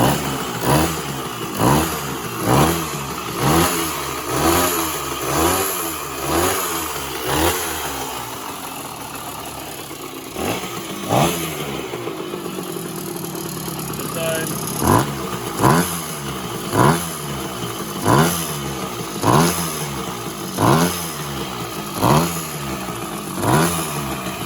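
A 1966 Bridgestone 175 two-stroke motorcycle engine runs on its own, rising and falling through a series of loud, regular revs with a brief drop toward idle midway before the rhythmic blipping resumes.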